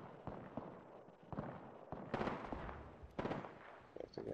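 Nearby gunfire in the video game Apex Legends: several sharp bursts and single shots crack at irregular intervals over a rumbling background, fairly close and loud.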